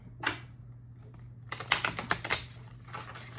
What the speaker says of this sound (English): let me read into that while I'm shuffling.